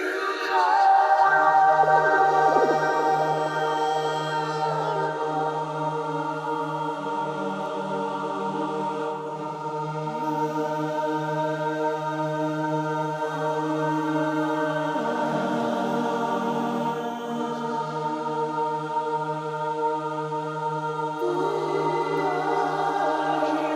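A Reason Humana choir sample instrument holds layered choir-like chords, shifting slowly between harmonies over a steady low drone, smooth and continuous without breaks.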